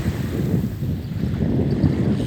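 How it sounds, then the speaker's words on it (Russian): A southeast wind blows across a silver-sand beach at a lake in early February, a continuous low rumbling buffet on the microphone, loud and steady with no voices. "Юго-восточный ветер дует."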